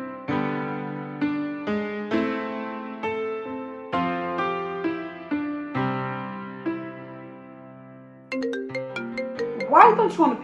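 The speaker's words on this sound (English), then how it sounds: "your phone is ringing" A melodic phone ringtone plays repeating chime-like notes, clear and close, ending with a brighter burst of tones.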